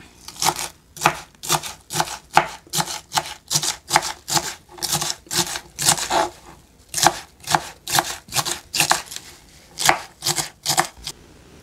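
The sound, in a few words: chopping pumpkin leaves finely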